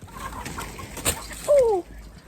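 A duck gives a single short, loud descending call close by, preceded by faint scattered farmyard clucks and rustling.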